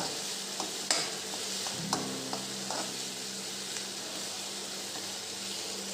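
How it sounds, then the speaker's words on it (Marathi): Onion with curry leaves fries in oil in a pan, a close steady sizzle broken by scraping stirs and several sharp utensil clicks, with no talking. "कांदा तेलात छान आपण आता लालसर भाजून घेऊ"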